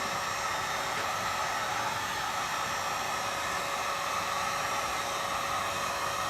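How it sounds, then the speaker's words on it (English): A heat gun blows steadily on seatback material during a 1990 Miata seat repair, a constant loud hiss of rushing air with no breaks and no talk. "because it's a heat gun"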